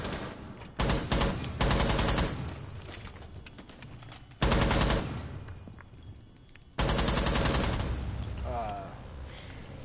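Bursts of gunfire in Rainbow Six Siege, with shots punched through walls, arrive in three loud volleys, each a rapid string of cracks that decays into echo, with a gap between bursts.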